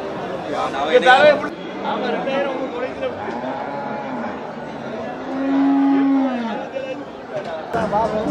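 Cattle at the Melapalayam livestock market, with a drawn-out moo rising over a steady crowd babble while people talk nearby throughout.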